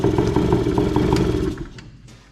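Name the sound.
2003 Arctic Cat 90 youth ATV engine idling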